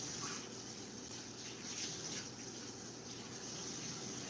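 Kitchen tap water running into a sink to rinse meat, a quiet steady stream with faint splashing fluctuations.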